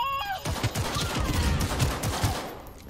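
Gunfire in Cyberpunk 2077: a rapid, close volley of shots rattling continuously after a brief electronic tone, loud and steady for a few seconds.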